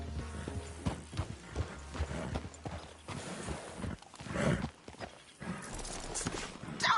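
Horse hooves clip-clop in a PS4 video game horse race, a fairly quiet run of hoofbeats with a brief whinny mixed in and no talking.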